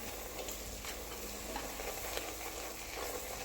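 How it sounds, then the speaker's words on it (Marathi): Crab curry masala stirring and sautéing in hot oil for a Marathi-style crab curry, a steady low sizzle with soft scraping strokes throughout, close and fairly quiet, no voices. "एक ते दोन मिनटं छान असं तेलावरती परतवून घ्यायचं आहे"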